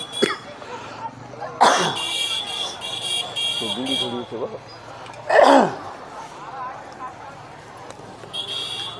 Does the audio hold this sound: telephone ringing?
no